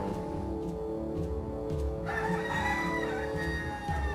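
Video game roosters in The Mysterious Case of Dr Jekyll and Mr Hyde on the Nintendo DS crow loudly over a background music loop, with one bright crow rising near the middle.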